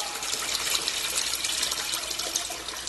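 Oil drains out of a commercial fryer after filtering, a steady rushing, gushing flow of liquid that stays constant and fairly close with no pauses.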